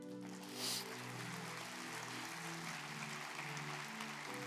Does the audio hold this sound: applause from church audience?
yes